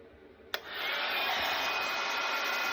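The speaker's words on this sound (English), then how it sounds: "with the heat gun on number 2, and we're just going to heat up this embossing powder" After a faint click, a heat gun set on its second setting starts up and blows with a steady, close, airy roar while it heats embossing powder on a card.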